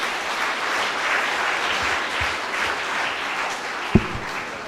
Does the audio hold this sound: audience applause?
yes